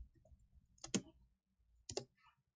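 A computer mouse button clicks twice in quick succession, then again about a second later, sharp faint clicks in an otherwise quiet room.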